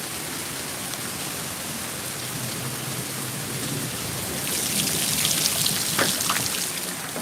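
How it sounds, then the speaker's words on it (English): Steady rain falls outdoors, a dense even patter heard close and alone, swelling slightly heavier toward the end with a few sharper drips. "I hope it stopped raining before I go home."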